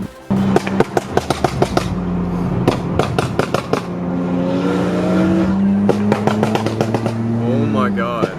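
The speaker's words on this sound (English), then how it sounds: "there's literally a flame for every pop that the car does" Sharp, loud exhaust pops and crackles from a BMW F32 435i running an E85 flame tune, firing in rapid irregular bursts over the engine's droning rev, with people talking excitedly nearby.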